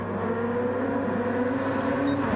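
A race car engine in Gran Turismo 7, during a GT Challenge online race, drones at full throttle with a steady, loud, sustained tone that holds throughout.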